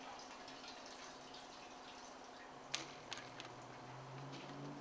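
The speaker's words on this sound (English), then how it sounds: "pouring the excess fuel from the sending unit into the tank" Excess fuel being poured from a removed fuel pump sending unit back into a car's gas tank, heard as a faint, steady trickle of liquid with a few brief splashes and drips near the end.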